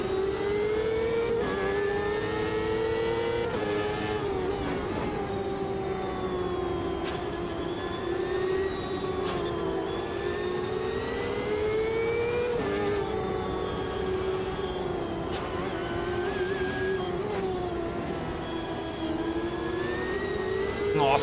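A 1998 CART race car engine in Automobilista 2 howls at high revs, rising and falling with gear changes as it accelerates and lifts through corners, loud and continuous throughout.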